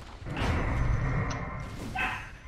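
A dog barking repeatedly, in short yips and woofs, fairly close and loud over a busy background during an online game session.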